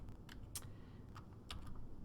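Keystrokes on a computer keyboard tap out in a sparse, irregular run of a few sharp clicks over a low steady room hum, quiet and close, with no one speaking.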